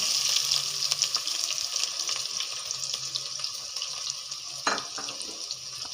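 Chopped onions fry in hot oil in a pan for an egg and onion dish, giving a close, continuous hissing sizzle with small crackles, louder near the start and then settling.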